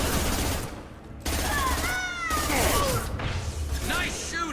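Gunfire and combat in the sci-fi shooter game Mass Effect 2, dense bursts of shots and effects running continuously under voiced character dialogue and a creature-like cry, loud and close throughout.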